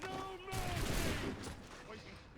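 A firing line of soldiers in the Assassin's Creed 3 video game lets off a musket volley, a crackling burst of shots that swells and fades over a couple of seconds, heard alone at moderate volume.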